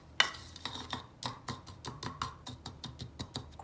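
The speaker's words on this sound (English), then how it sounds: "Stir this up." Banishing incense mixture being stirred in a small container, with a quick run of light clinking ticks, roughly evenly paced and close by, quiet and without talk.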